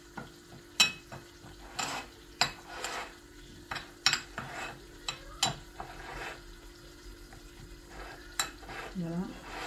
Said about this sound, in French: je mélange tout ceci, toutes les épices ensemble